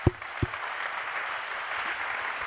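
Audience applause at the ChangeNOW launch event for The Arch, steady dense clapping from a seated crowd across the whole stretch, after two brief low thumps at the start.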